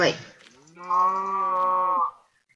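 A cow in an old version of the Minecraft video game gives one long, loud, low moo, preceded by a short spoken word.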